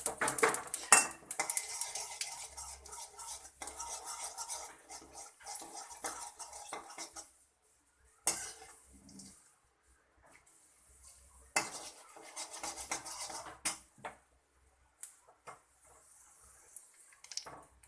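A pan and metal utensils clatter while potato palya is cooked with oil, mustard, jeera, chana dal and urad dal, with intermittent scraping and clinks separated by quiet gaps.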